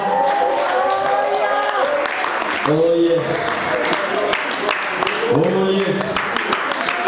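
A church congregation applauds and cheers during a sermon, with voices calling out in joy over the clapping. Shouted exclamations and singing-like vocal bursts rise above the steady crowd noise.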